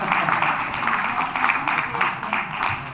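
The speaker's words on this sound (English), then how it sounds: "Big round of applause again," Sustained applause from an audience at the Middle East Chef Excellence Awards ceremony in Dubai, a steady wash of many hands clapping at moderate loudness with no speech over it.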